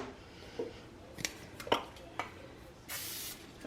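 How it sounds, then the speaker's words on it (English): A short burst of aerosol cooking spray hisses steadily into a crock pot near the end, following a few soft clinks and handling knocks in a quiet kitchen. "you take some cooking spray and you spray it so that way the cake does not stick"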